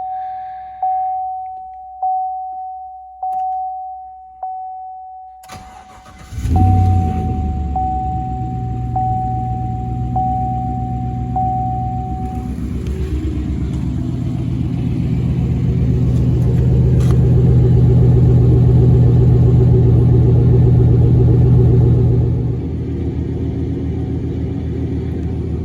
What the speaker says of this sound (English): I actually put the truck in neutral and pushed it out of the garage, so I could give you a nice cold start.